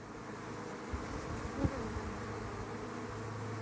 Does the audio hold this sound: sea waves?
no